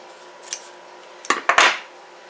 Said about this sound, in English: I'm going to just cut some pieces.